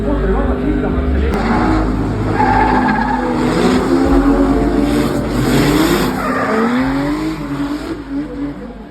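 A Lexus IS 250 fitted with a Mercedes V8 drifts at a drift event in Estonia, tires screeching and the engine revving hard, loud and sustained, with crowd noise and a voice in the background.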